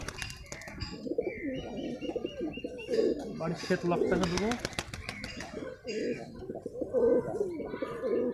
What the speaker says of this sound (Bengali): এটা নতুন নতুন পায়রা বাড়ির পাশে কালেকশন করেছিলাম